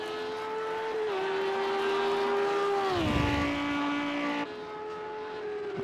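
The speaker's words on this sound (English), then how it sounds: "Definitely sounds it's a nice sounding car, this Audi." An Audi GT3 race car's engine howls at the Red Bull Ring, holding a steady high whine and then stepping down through sharp downshifts with a blip and rumble around mid-clip, loud and continuous with no talk.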